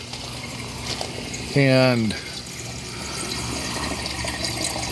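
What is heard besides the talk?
water flowing through downspout into drain standpipe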